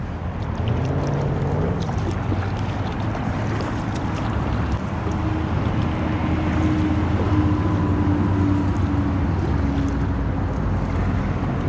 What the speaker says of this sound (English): I want to show you guys how good this kayak paddles